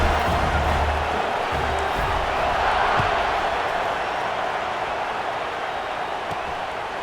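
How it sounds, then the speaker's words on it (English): A football stadium crowd at Montana State versus South Dakota State roars in a steady, loud, dense wash right after a score, sustained throughout with no clear gaps. "this crowd is buzzing after that last score"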